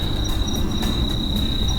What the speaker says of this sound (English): So you can hear those crickets.